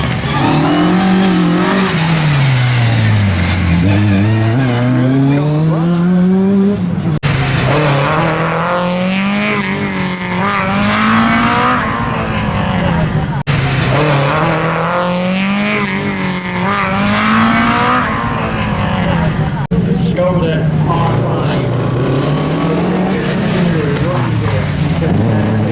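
Rear-wheel-drive rally cars race along a stage at a Race Retro event, engines loud and close as they rev, climb and drop through gear changes in repeated passes, with tyre noise and no talk.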